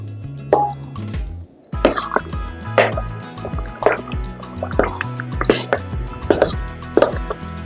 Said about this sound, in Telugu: కొద్దిగా వేడి నీళ్ళు పోసుకొని కలుపుకోవాలి.